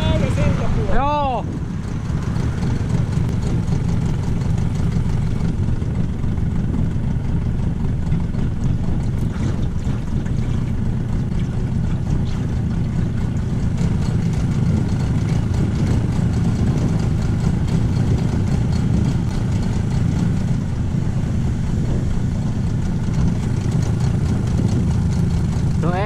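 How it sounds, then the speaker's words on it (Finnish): A fishing boat's outboard motor idles steadily and close by for the whole stretch, a continuous low rumble with wind buffeting the microphone and no speech. "ei se tainnut moottori hajota kuitenkaan."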